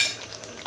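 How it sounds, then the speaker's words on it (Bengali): A spoon stirs raw mango sweet, sour and spicy chutney in a pan in a brief, close scrape of metal against metal. "এটা কিন্তু নাড়তে হবে কন্টিনিউ, যাতে করে না পুড়ে যায়।"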